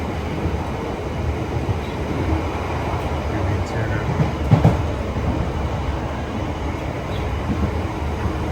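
A roughly 50-year-old London Underground Piccadilly line train runs along the tube, a loud steady rumble with faint rhythmic clatter and a brief louder jolt midway, while someone speaks briefly over it.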